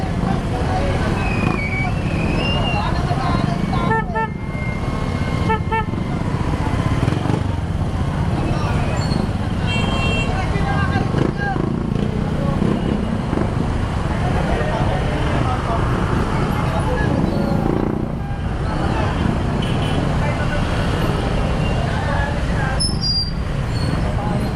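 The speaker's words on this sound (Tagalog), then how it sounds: "Traffic lang talaga rito." Road traffic flows past in a continuous wash of car engines and tire noise, with vehicles passing near and far over the whole stretch.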